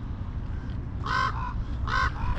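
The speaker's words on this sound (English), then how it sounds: "There is a big old crow in there." A big crow caws near an old outhouse, giving two clear calls about a second apart. They stand out loud and near over steady outdoor background noise.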